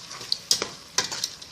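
Spices being sautéed in a pan for a seafood soup give a brief hiss of sizzling, with quick scraping stir strokes and light clinks of a utensil against the pan.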